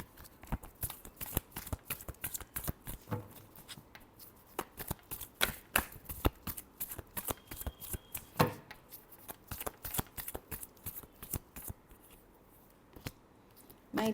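Tarot cards being shuffled by hand in a Libra reading, a long run of quick crisp riffling snaps in uneven bursts, close and clear with no talking.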